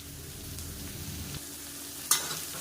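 Bitter gourd sautés in a pan for a sukka dish, a steady low sizzle running throughout with a soft scrape of stirring and a brief sharp clink near the end.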